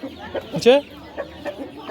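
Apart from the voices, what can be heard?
live chickens clucking at a poultry market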